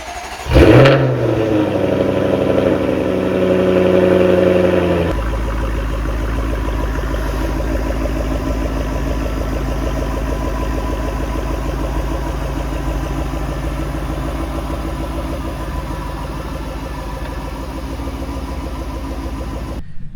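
A Jaguar F-Type S Roadster's deep, throaty supercharged V8 starts with a sharp roar and revs, then settles into a loud, steady rumbling idle that continues to the end.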